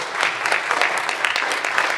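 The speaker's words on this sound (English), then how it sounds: "we'll take those smiles and that applause as approval" A congregation at Cherry Road church claps together during a Sunday morning service, steady crowd applause with scattered louder claps rising over the texture, and no talking.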